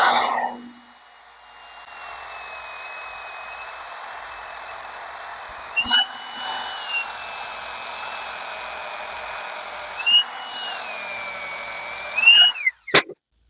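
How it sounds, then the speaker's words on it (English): Power buffing wheel with buffing compound polishing a small etched steel piece: a steady high-pitched motor whine runs nearly throughout, with brief louder contact bursts near the start, middle and end before stopping abruptly. "Buffing compound, we're just gonna give her a little wipe like that, and give her a little polish."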